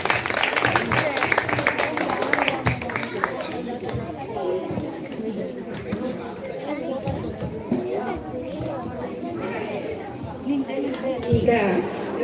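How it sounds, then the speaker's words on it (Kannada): Audience at a summer camp performance breaks into loud, dense clapping that is strongest in the first few seconds, then thins out under steady crowd chatter and a talking voice. "ಜೋರಾದ ಚಪ್ಪಾಳೆ."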